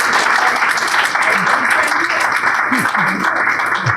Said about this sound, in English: You can clap, and this is why it's a live audience.